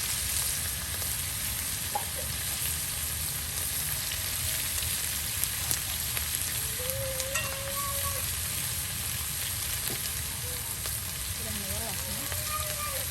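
Garam masala with cinnamon, cardamom and fenugreek frying in a pan for a rustic duck and dried-fish curry, giving a steady dense sizzle throughout with faint clinks and light stirring.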